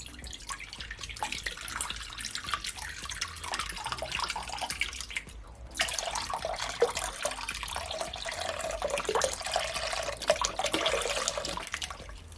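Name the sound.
cranberry juice being poured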